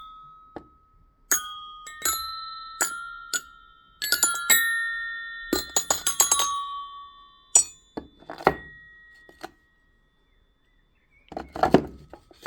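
A Schaublin 102N-VM metal lathe part, likely a collet, struck and ringing like a bell: a series of sharp metallic clinks with sustained bright tones, several distinct strikes with decaying rings, alone without talk.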